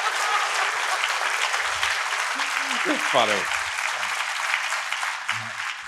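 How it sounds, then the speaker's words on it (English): An art school audience claps steadily for an artist in a sustained, even wash of applause, with brief talk heard partway through. "Will you please clap again for Steve Locke?"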